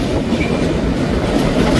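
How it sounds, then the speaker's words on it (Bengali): Passenger train of Indian Railways on the Sealdah to Jalpaiguri route, with its steady loud rumble and wheel clatter on the rails, continuous and close without any voices. "তারপর আমাদের ট্রেন আবারও পরবর্তী গন্তব্যের দিকে এগিয়ে যাবে।"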